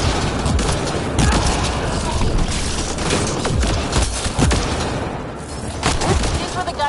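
Gunfire in a PS4 video game, rapid bursts and booming shots over a dense rumbling din, loud and sustained, with a voice talking through it.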